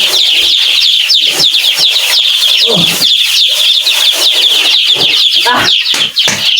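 Baby chicks in a brooder chirp loudly and continuously, a dense close flock of high peeping calls with no pauses.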